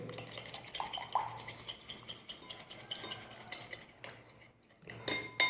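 A spoon scrapes and clinks around a bowl while food is thoroughly mixed for a healthy dish, a steady run of close, light metallic taps and scrapes with a short pause near the end.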